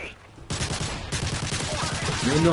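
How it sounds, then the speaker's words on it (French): Rapid gunfire bursts in the Call of Duty video game rattle on continuously after a brief quiet start, with a voice speaking near the end. "vous avez bien vu les rafales que je lui ai mis quand même"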